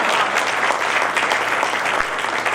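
Audience applause at a convocation of the School of Inspired Leadership, a steady, dense wash of many hands clapping at once, continuous and fairly close throughout with no talking over it.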